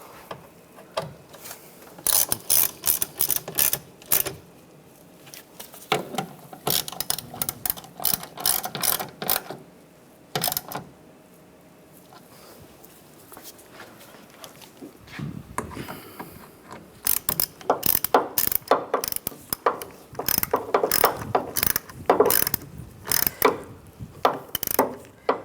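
A hand ratchet snugs down the bolts on a wiper motor during a wiper motor replacement on a 1998-2010 Volkswagen Beetle. Bursts of rapid, close clicking run in several runs with short pauses between them.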